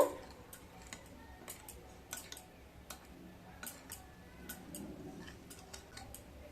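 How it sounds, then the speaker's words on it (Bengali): A spoon stirring turmeric and chili powder into tamarind pulp, making soft, irregular ticking clicks against the bowl every half second or so, close and quiet with no talking. "1 চামচ হলুদ, 1 চামচ লঙ্কার গুঁড়ো দিয়ে খুব ভালো করে মিশিয়ে নেব"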